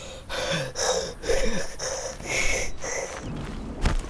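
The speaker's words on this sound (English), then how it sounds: "I heard something breathing." A video game creature's heavy, rasping breaths repeat in a steady rhythm, close and fairly loud, with gasping and snorting textures and a sharp burst near the end.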